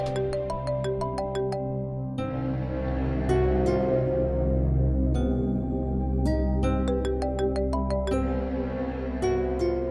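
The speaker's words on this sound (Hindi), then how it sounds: "तुम्हारा फोन बज रहा है।" A mobile phone ringing in a home scene of a drama, a loud musical ringtone of repeating chiming notes with a steady melody that plays continuously, with no voices.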